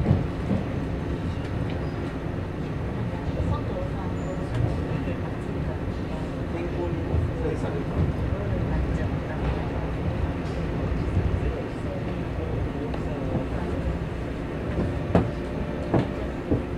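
A Class 485 train rumbles steadily along the rails as it accelerates, with rattling and clicking from the cars, a constant loud drone under occasional voices.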